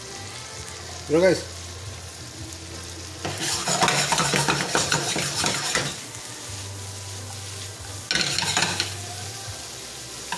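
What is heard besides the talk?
sautéing New York steak with cabbage in a pan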